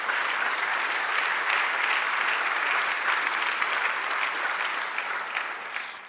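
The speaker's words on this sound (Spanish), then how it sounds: "Dale el aplauso al Señor." Church congregation applauding during a Spanish-language sermon, sustained even clapping across the room that holds for several seconds and then begins to taper off.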